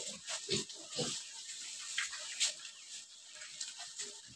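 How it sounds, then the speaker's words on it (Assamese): Pigs grunt and snort up close as they munch, with irregular rustling and chewing noises between the grunts. "মই গাহৰিকেইটা মিঠাউলু গছৰ পাত দিছোঁ"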